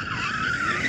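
Car tyres squeal loudly in a single sustained skid as a car drifts forward to warm them up, heard up close in a burst of under a second at a drag race.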